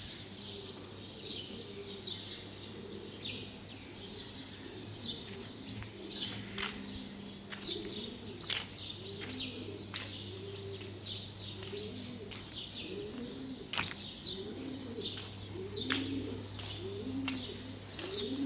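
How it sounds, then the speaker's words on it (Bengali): Birds call at dawn outside around six in the morning, with pigeons cooing in repeated soft phrases and small birds chirping throughout, a steady layered chorus at moderate distance with no talk. "পাখি ডাকতেছে।"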